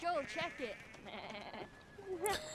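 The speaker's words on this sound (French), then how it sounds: "Ah putain, les moutons." Sheep bleat in a scene from The Last of Us, several short wavering calls heard amid people talking, moderately close.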